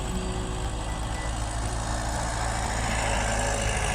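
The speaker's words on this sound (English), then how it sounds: "trying to see what kind of tractor this is here." A Ford 500 tractor engine runs steadily while plowing a farm field in the Philippines, a loud, continuous low rumble with constant mechanical noise and no voices.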